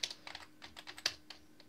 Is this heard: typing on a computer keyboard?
yes